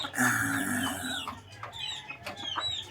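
A Bulik Boston F1 cross chicken clucks in a few short, close calls, with brief soft bursts and light background noise and no talk over it.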